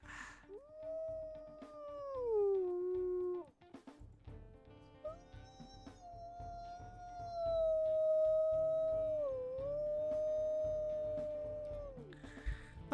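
A wolf howls in a video game, two long wavering tonal howls in sequence, the first dipping at its tail and the second held and bending, loud and close over a faint low background rumble.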